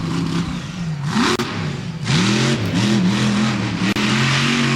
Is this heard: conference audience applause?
no